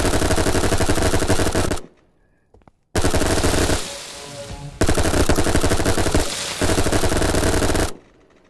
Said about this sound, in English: Using an automatic weapon with infinite bullets.